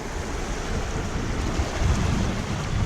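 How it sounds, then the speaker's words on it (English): A Cornish shrimper sailboat splashes through the water at about five or six knots, a steady close rush of surf and wash with wind buffeting the microphone throughout. "Splashing along,"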